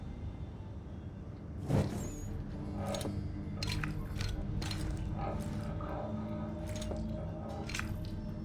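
Small metallic clicks and scrapes of a lock being picked in Assassin's Creed III Remastered, scattered soft ticks over a low ambient drone with no talk.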